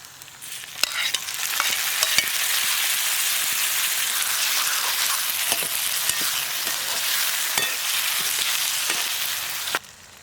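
Loud continuous sizzling and frying in a pan of village-style wet shrimp stew after tomato goes into hot oil with onion and turmeric, broken by stirring scrapes and clicks before stopping abruptly, no talking.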